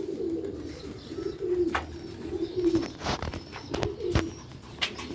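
Sialkoti rooftop pigeons coo repeatedly in low, throaty rolling calls, with a few sharp clicks and faint wing sounds, close by and outdoors.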